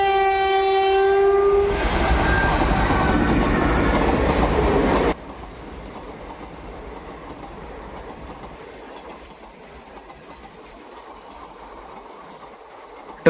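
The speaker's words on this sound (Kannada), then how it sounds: "ಟ್ರೈನ್ ಪಾಸ್ ಆಗೋವರೆಗೂ ವೆಯ್ಟ್ ಮಾಡಿದೆ." A train sounds a long, loud horn at a railway crossing, then rumbles past with steady wheel clatter, and the noise drops to a quieter rolling hum as the cars keep moving.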